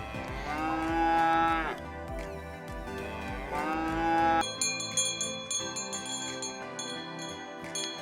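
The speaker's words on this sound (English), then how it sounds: "Cow." A cow moos in two long, drawn-out calls, the second ending as bright bell-like tones take over for the rest.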